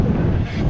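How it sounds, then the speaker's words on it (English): Strong wind buffets the microphone at Pike Lake State Park, a loud, steady low rumble that fills the whole moment with no voices. "It's windy."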